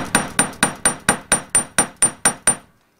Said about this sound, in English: I'm using a planishing hammer, but you could use a chasing hammer just as easily.